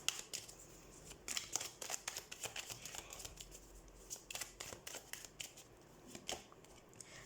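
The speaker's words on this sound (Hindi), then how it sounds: "so let's shuffle the cards" A deck of tarot cards is shuffled by hand, close and fairly quiet, a run of quick riffling snaps and soft slaps in an uneven rhythm with no talking.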